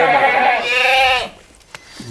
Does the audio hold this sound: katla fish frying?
no